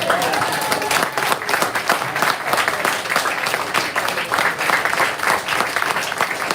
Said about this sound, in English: Can we get a final round of applause,